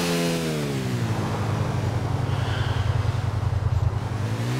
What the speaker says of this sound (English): Na to su ti brzi motori, oni japanski, Kawasaki, Suzuki,